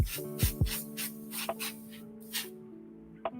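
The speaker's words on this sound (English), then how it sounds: "let's put some Panzer Gray down. Just sprays beautifully." An airbrush lays Panzer Gray paint onto model armor during weathering, giving short hissing spray bursts in an irregular rhythm, close and fairly soft, with a steady low hum underneath and no talking.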